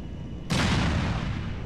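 A sudden heavy boom bursts in after a quiet moment in the video game GTA: The Ballad of Gay Tony, followed by a sustained rumbling roar that fades slowly.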